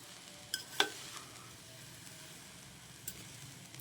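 Fried rice with eggs and vegetables is stirred in a pan over a low flame, with a soft, steady sizzle and a few sharp utensil clinks against the pan.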